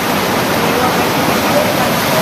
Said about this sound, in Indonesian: Banjir bandang berarus deras setinggi 1 meter menerjang permukiman di Pagar Alam Utara